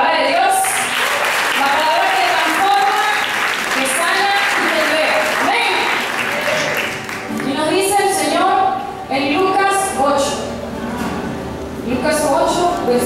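A youth retreat congregation applauds in a church setting, loud and close, with clapping mixed under ongoing talk and voices throughout.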